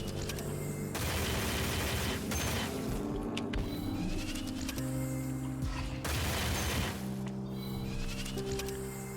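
SMG gunfire in the shooter Project Warlock 2, loud rattling bursts of a second or more, repeating several times with short gaps over a harsh tonal game background.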